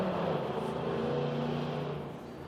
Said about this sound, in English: There's some noisy cars over here.